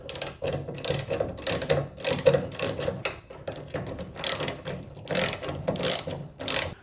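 A 13 socket ratchet fastening a reverse light mount on a Suzuki Jimny, rapid clicking bursts repeated in short rhythmic runs with brief pauses, close and without talk.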